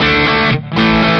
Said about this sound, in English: organically overdriven. Not that fuzzy distortion that a lot of distortion or overdrive pedals get.